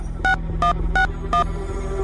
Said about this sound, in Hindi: फिर अर्जुन ने पीयूष को फोन लगाया।